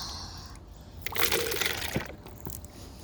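Water splashing and flowing into a homemade sump pump fitted with a golf ball float, a short burst of gurgling liquid over a low background hum.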